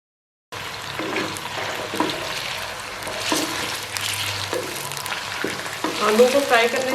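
Potatoes frying in oil in a pan on a stove, a steady close sizzle with occasional stirring scrapes running throughout after a brief silent start.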